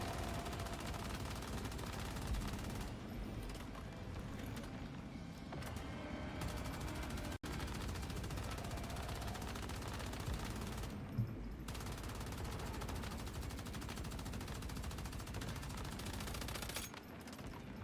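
Sustained, dense automatic gunfire in the Once Human video game, in a Nightmare Prime War on a hard server, with rapid continuous bursts and brief pauses, loud and close throughout.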